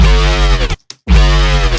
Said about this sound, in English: Next, distortion.